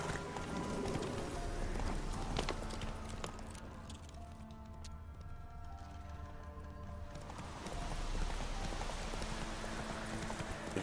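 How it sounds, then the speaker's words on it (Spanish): A horse trots in The Witcher 3, its hooves clip-clopping in a steady, even rhythm throughout, fairly close, over a light rain-like background wash. "Mira el caballo, como trota,"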